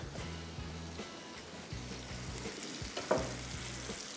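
Hyderabadi shami kebabs fry in a hot pan with a steady, close sizzle and crackle, joined by a low rhythmic hum and a brief sharper pop near the end.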